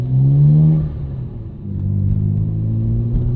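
A 1999 Nissan Skyline R34 GT-R engine revs loudly close by, a deep rumbling growl that rises, eases off, then builds again into a sustained throaty drone.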